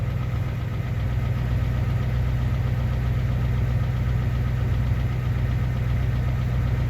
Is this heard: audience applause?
no